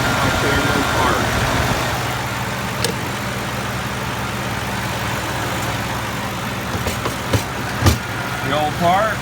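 A Ford 5.4 engine in a truck idling steadily after a rattle repair, a smooth low hum up close with a few faint clicks and handling noises over it.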